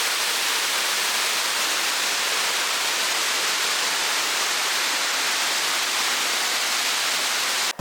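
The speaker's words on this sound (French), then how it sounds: "aller voir les cascades pas loin de la ville de Nigri" Waterfalls near the town of Nigri on a Greek island give a steady, loud, broadband roar of rushing water, continuous and unbroken, with no voices present.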